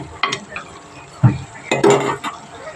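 Spinach stir-fry with salt being stirred in a pan, a spoon scraping and clinking against the metal in a few distinct strokes over a faint background sizzle, close and moderately loud.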